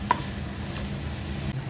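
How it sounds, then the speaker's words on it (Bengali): Prawns fry in a pan for a mashed prawn dish, giving a steady, moderately quiet sizzle with a short stirring scrape near the start and no voices. "চিংড়ি মাছ ভাজা হয়ে গেছে, এখন আমি ছেঁচে ভর্তাটা করব।"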